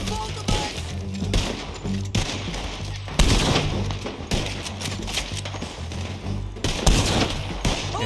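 Rifle gunfire in a Red Dead Redemption 2 shootout, scattered loud shots and echoing reports over several seconds, mixed with hoofbeat-like thuds and background game noise.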